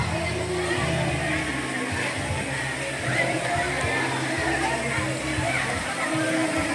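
Mountain spring water runs at a beach resort in Guinayangan, Quezon, a continuous close sloshing and splashing flow, with someone talking over it at times.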